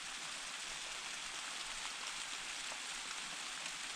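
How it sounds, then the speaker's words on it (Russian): Rain falling on a cabin in winter, a steady, even hiss of drops on surfaces that stays constant throughout, fairly soft and with no voices. "Все, обещанный дождь пошел."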